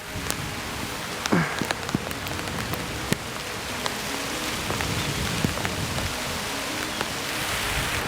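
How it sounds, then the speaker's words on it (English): Rain falling steadily across a golf course, a dense, even patter of drops with occasional louder nearby splashes, sounding alone without talk. "It's raining. Uh-oh, it's really starting to come down."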